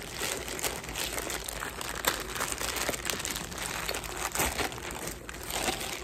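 Plastic packaging for a pair of zippered boots from a Temu order being torn open, a steady crinkling and crushing rustle that runs close and loud through the whole stretch with no talk over it.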